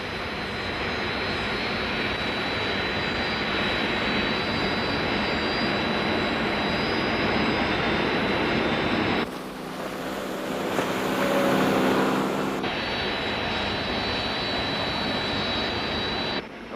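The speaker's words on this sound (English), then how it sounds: "Search aircraft launched" Jet engines of search aircraft roar steadily and loudly throughout, with a brief change in tone midway as the sound shifts, from the Thunderbirds TV series during a sea rescue operation.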